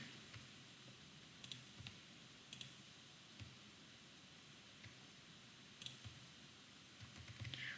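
Keys clicking on a computer keyboard, a few scattered faint taps spread over several seconds against a quiet hiss, with no talk.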